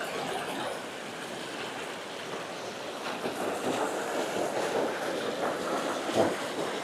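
Stream water flows steadily near a village in Xaisomboun province on a cool morning, a continuous broadband rush with gentle swells and no voices.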